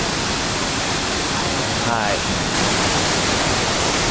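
A waterfall at a sightseeing spot in Taiwan roars steadily as a loud, dense broadband rush, with a brief voice heard over it.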